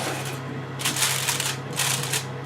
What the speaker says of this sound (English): I'm going to cover the pepperoni with a silver tin foil